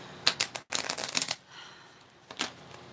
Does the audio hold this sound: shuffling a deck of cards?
yes